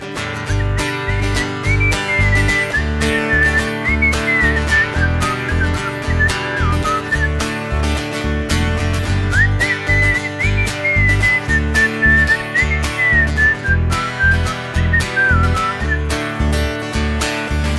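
A person whistles a wandering melody on a Frisian radio broadcast, loud and close over a steady, thumping rhythmic music backing that runs the whole time.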